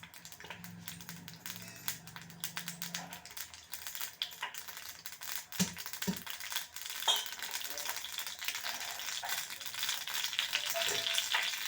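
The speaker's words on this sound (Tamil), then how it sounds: "எண்ணெய் போட்டாச்சு எண்ணெய் காஞ்சதும் கடுகு" Mustard seeds crackle and spatter in hot oil in a pan, a dense steady sizzle with scattered sharp pops building over the length, close by with no talk.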